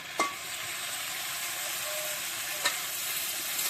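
Dried fish (shukla) and potatoes fry in a pan with a steady, soft sizzle and crackle, broken by two brief stirring clinks, no voices.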